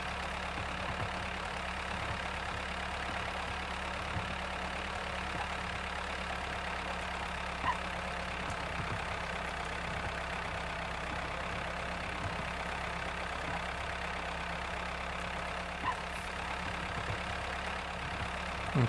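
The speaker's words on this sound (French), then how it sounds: "En tout cas, mon tracteur il pollue bien." A tractor engine idles in a farming video game, a steady low rumbling drone that stays even and unbroken throughout, with no speech over it.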